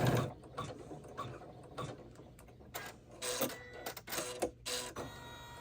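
A sewing machine stitching a small open-top handbag charm bag gives quiet, uneven bursts of mechanical clatter, short runs of stitching broken by pauses and handling noises, close by with no voices.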